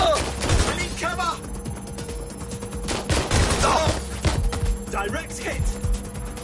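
Gunfire crackles through a Watch Dogs: Legion street fight, rapid overlapping shots and bursts over a steady background din, with urgent voices shouting beneath and between the volleys.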